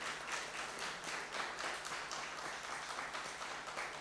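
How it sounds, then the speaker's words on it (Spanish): Audience applause inside a church, a steady wash of many hands clapping at moderate distance, continuous and even throughout with no voices standing out. "Así que denle un aplauso,"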